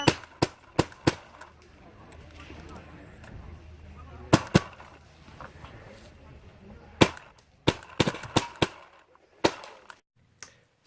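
Tac-One Automag pistol fired outdoors, sharp loud shots in uneven bursts: four quick shots, a pair, then several clusters spread over the stretch, with quiet gaps and faint background voices between.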